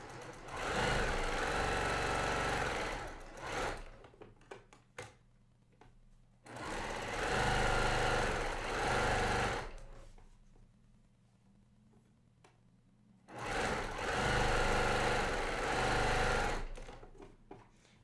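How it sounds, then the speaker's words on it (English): A sewing machine stitches a quilt seam in three steady runs of fast mechanical whirring and clatter, separated by quiet pauses, close and clear. "But I'm just going to sew it a quarter inch on each side,"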